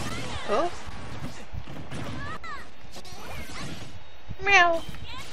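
A few short meows rise over a busy mix of Super Smash Bros. game effects and talk. The last meow is louder and clearer, and a person may be imitating a cat.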